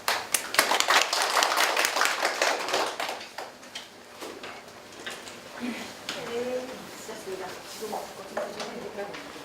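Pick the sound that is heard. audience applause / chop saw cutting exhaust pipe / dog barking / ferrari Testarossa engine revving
audience applause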